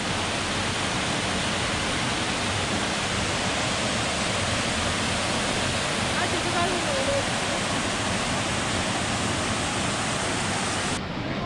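Durga Falls at Ajodhya Hill in Purulia roars as a dense, unbroken rush of falling water, loud and steady from start to finish.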